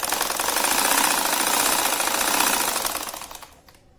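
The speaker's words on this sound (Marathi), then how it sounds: "आता खालची सरळ बाजू शिवून घ्या." A sewing machine runs steadily for about three seconds, stitching the straight lower edge of a ruffled envelope cushion cover, then slows and stops; the motor whirr and rapid needle chatter are loud and close, with no voices.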